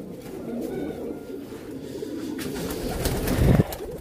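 Pigeons coo softly in a loft, a low steady murmur of several birds close by, with a short louder rustle or flutter near the end.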